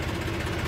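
A tractor engine idles with a steady low rumble and vibration, a short, even stretch of moderate loudness with no voices.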